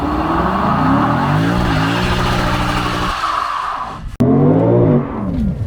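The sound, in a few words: Lexus IS 500 tires scrubbed to warm up before launch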